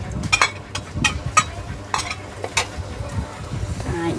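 Garlic drops into a hot pan for a Khmer dried fish with mango dish, sizzling under repeated clicks and scrapes of a stirring utensil, close and fairly loud.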